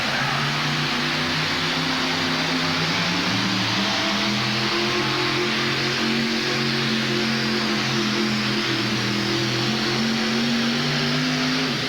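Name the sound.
pulling truck engine revving during truck pull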